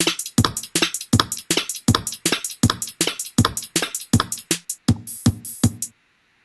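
A programmed rock beat from the Drumbit sequencer plays punchy kick drum hits and crisp hi-hat strikes in a quick, even pattern, with open hi-hats in a short fill, then stops abruptly near the end.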